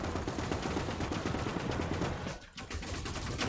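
Gunfire in the video game Gates of Hell on hard difficulty, a near-continuous rattle of rapid automatic shots with a brief lull partway through before the shooting resumes.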